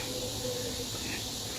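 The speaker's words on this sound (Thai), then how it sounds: "นี่คือเสียงจักจั่น" A steady high buzzing drone of cicadas fills the air at a Thai temple among green trees, constant and fairly faint, like an outdoor natural background with no other distinct sounds.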